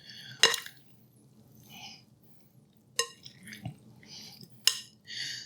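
Roasted potatoes seasoned with salt and pepper are tossed in a pan or bowl, making three brief clattering tosses separated by quiet gaps, with soft rustling and faint clinks between them.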